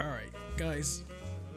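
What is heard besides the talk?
No everyday noise stands out behind the speech.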